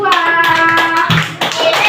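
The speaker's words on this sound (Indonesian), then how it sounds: "di beri aplaus kelompok" Group applause in a classroom during a lesson: a short burst of brisk clapping from many hands, close and loud, with children's voices mixed in.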